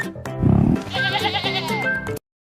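A goat bleating loudly and close, a couple of wavering, nasal cries in quick succession with no talk.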